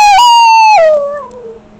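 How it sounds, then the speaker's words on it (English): A dog lets out a loud, close howl that holds a steady tone, then slides down in pitch and fades. "you don't need to howl at me"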